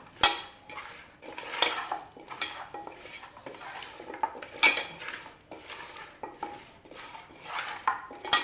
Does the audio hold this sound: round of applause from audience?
no